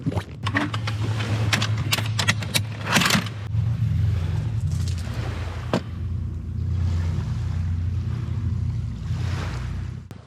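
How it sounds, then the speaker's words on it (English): Water rushing and lapping outside a parked camper van, a continuous wash of noise with swelling surges, along with a few sharp clatters and bumps early on. "I hope the water is not very loud."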